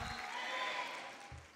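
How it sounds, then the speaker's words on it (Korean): A church congregation applauds during a Korean worship service, a dense, even wash of clapping from many hands that swells and then tapers off. "우리 하나님께 한 번 더 영광의 박수를 올려드리도록 하겠습니다"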